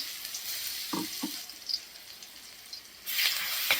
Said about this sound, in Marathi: तेल गरम झालंय आपलं. आता आपण याला फोडणी द्यायची.